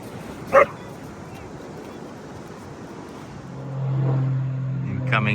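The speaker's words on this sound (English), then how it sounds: "Oh, here's the dogs again." A dog gives a sharp bark followed by yips and whimpering, outdoors near a pond under stormy skies; the barks come in a few brief bursts against a steady background hum.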